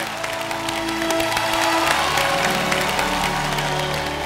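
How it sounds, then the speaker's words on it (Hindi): A TV show studio audience applauds and cheers, the clapping and crowd noise running continuously beneath music. "जोरदार तालियां"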